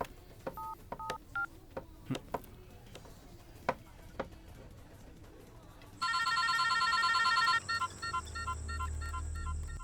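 A run of keypad tones as a phone number is dialed, each beep short and separated by clicks, followed by a steady ringing tone on the line.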